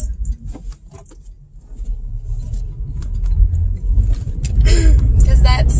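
Steady low road rumble fills a moving car from inside, growing slightly louder, with light rattles and jingles in the cabin and a few brief rustles near the end; no one speaks.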